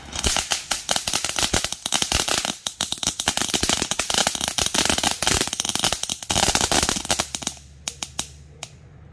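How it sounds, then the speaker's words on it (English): A rapid, loud barrage of firecracker bangs crackles continuously for several seconds, then thins to a few scattered pops before stopping. "I greatly misunderstood what this firework was for."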